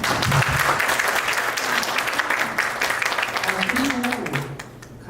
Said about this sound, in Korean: 네, 시험까지 해주셔서 말씀 주신 조영주 씨께 박수 한번.